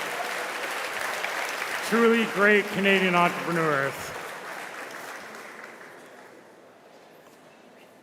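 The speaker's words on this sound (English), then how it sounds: "Another massive round of applause for Harley," Audience at Toronto Tech Week gives a sustained, crowded round of applause that continues under a speaker's voice, then slowly fades away.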